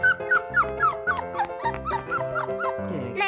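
A cartoon dog yips and barks in a quick series of short, squeaky calls over bright, steady background music, loud and close throughout.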